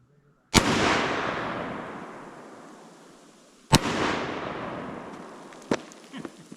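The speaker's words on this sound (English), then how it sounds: "we're gonna shoot 2 liters. And of course, we gotta shake them up." Two loud rifle shots from an AK-47 or AR-15, several seconds apart, each ringing into a long outdoor echo, aimed at shaken-up 2-liter soda bottles. Softer knocks and pops follow near the end.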